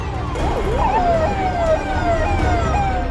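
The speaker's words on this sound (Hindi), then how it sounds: "एम्बुलेंस के सायरन सुनाई देने लगे।" Wailing ambulance sirens rise and fall continuously over heavy traffic rumble at a hospital ICU fire in Bharuch, India, loud and fairly close, with several tones overlapping.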